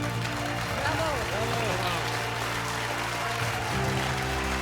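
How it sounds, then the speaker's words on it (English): Audience applause at a music competition show, a dense steady wash of clapping throughout, with a voice speaking over it and low tonal hum beneath. "Please take a big bow and a huge round of applause."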